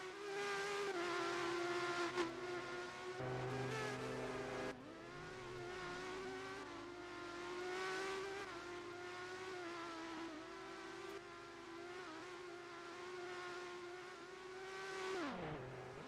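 Holden race cars in a racing video game, engines droning at steady high revs with shifting pitch and gear changes, fairly faint and continuous, with one engine note dropping away at the end.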